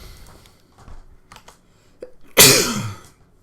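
A sports commentator sneezes once, loud and close, during a StarCraft TvZ match broadcast, preceded by soft clicks and faint background noise.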